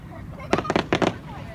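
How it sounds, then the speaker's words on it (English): Fireworks at the Takasaki festival give a rapid cluster of four or five sharp crackling bursts, fairly close and loud over the low rumble of the crowd. "the different styles of fireworks that they do are just spectacular"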